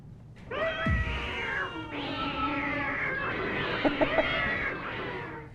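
A cat yowls in long, drawn-out wailing meows that rise and waver, loud and close, with a few short sharper cries near the end.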